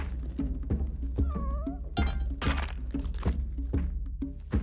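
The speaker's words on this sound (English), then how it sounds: "Heard the cat." A video game cat gives a short wavering meow amid repeated heavy thunks and impacts, all fairly loud and close, with no speech.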